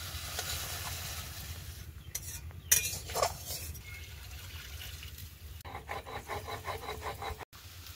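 Yam and prawns are sautéed in a little oil, with a spoon clattering and scraping against the pan in irregular bursts over a low background hiss.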